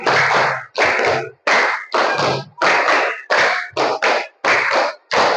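Schoolchildren in a classroom clap in repeated, evenly spaced bursts, about ten loud, close groups of claps separated by short silences, with little talking.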